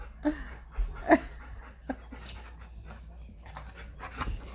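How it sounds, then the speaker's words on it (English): A dog pants in short, quick breaths close by, with a few brief louder snorts and scuffles mixed in. "Augie, stop it, crack dog"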